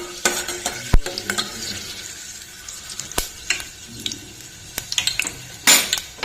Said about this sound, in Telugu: పోపు గింజలు వేసుకున్నాం.